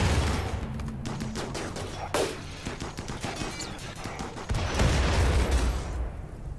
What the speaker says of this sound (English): Everyone's firing like crazy.